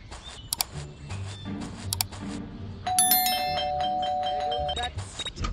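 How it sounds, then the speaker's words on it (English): A doorbell in the Scary Teacher 3D video game chimes with a bright repeated ding-dong, ringing clearly over soft game background tones and footsteps-like thumps. "That stupid bell again."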